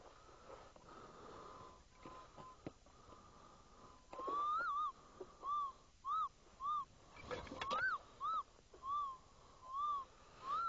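Minelab Eureka Gold metal detector out at dry wash piles, giving a series of rising warbling signal tones, repeated in short bursts over faint background hiss.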